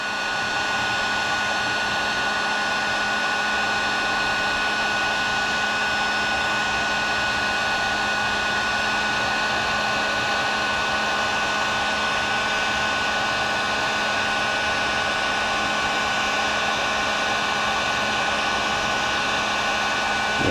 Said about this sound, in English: take the heat gun, put it on setting 2. Go ahead and heat this thing up.